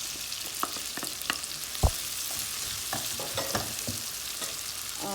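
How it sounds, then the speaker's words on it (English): Ginger and garlic paste frying in a pan for daal mash, a soft continuous sizzle broken by a few utensil scrapes and one sharper knock, no talking. "Now we're going to add ginger and garlic paste."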